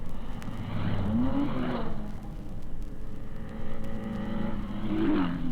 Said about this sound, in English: But the Fangio Ferrari and the Musso Ferrari are both sounding very healthy.